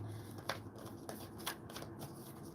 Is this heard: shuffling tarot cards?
yes